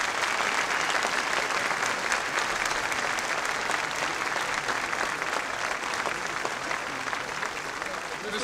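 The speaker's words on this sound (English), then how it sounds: "Let's have a round of applause for the Mariners Black Sheep Squadron," Sustained, dense audience applause at a presidential luncheon in Chicago, a steady roar of many hands clapping that holds at an even level throughout with no voices over it.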